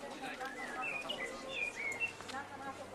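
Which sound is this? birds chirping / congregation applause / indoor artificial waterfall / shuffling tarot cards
birds chirping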